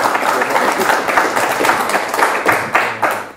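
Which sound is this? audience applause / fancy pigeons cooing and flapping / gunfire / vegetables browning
audience applause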